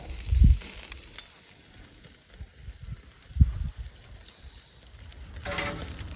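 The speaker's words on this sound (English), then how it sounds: "right on the grates and get that seared up really good" Oyster steak sears on hot grill grates with a close, steady sizzle, punctuated by a couple of louder thumps as the meat is laid down and shifted, with no talk.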